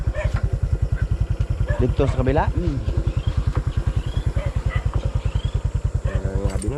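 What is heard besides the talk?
motorcycle riding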